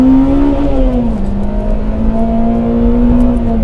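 A JDM Honda Civic Type R EP3 engine revs hard under acceleration, its strong, steady, buzzing drone close and loud throughout, the pitch dipping briefly and then climbing again. No one speaks.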